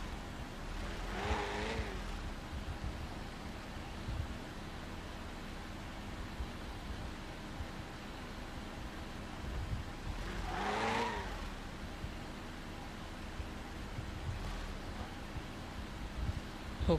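A rally car driven over cross-terrain stages in a racing video game gives a steady, fairly quiet engine and road drone, with a couple of brief swells as it accelerates.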